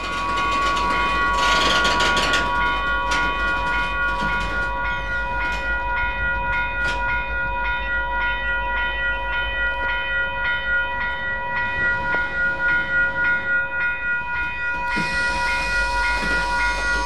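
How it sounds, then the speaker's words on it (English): A train sits at Field station in British Columbia, a CPKC crew change point in the mountains, with a steady loud rumble and hiss, several sustained tonal whines and occasional clanks. "There is an eastbound train waiting at the station to come east."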